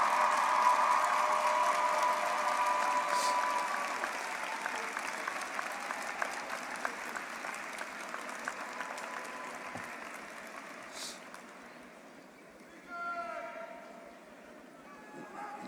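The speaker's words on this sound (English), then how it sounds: "Students, I want you to stand up and applaud your families." Graduating students at a university commencement applaud their families, a broad wash of clapping from a large crowd in a big hall that gradually thins and fades, with some voices mixed in.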